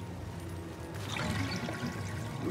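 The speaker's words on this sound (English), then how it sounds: "And you'll drain the water, I bet." Water gurgles and rushes as it drains away in an underground level of the Lego Batman video game, a continuous pouring, swirling wash that swells after the first second.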